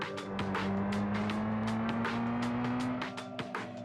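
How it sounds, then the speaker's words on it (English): A car engine in the video game Haunted Cities: Volume 3 drones steadily with a rising pitch as it accelerates, punctuated by sharp clicks and thumps, with no talking. "even the car noises are kind of loud, aren't they?"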